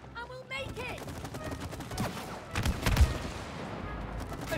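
Rapid bursts of gunfire crackle in the game It Takes Two, with a few heavier booming shots mid-way and a brief voice at the start.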